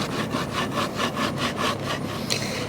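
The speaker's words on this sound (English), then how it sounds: "So I'm just going to try to cut these off flush." A handsaw cuts through an old pine chair leg to trim it flush, with rapid, rhythmic back-and-forth strokes, close and steady, then briefly changing pitch near the end.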